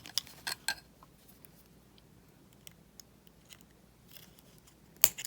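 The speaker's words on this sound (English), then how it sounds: "I'm going to snip my wire off right there in the back." Jewelry wire snipped off with cutters while making tag earrings, heard as a few sharp close clicks near the start and one crisp snip near the end, with quiet room tone between.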